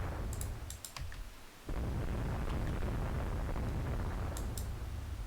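Naval gunfire in the video game Rule the Waves 2, a low rumbling blast that swells into a sustained roar of shelling, with a few sharp clicks at the start and end.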